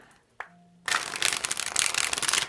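Card stock playing cards are riffle-shuffled close up, a brief tap and click first, then a dense, crisp flutter of cards snapping together for about a second and a half.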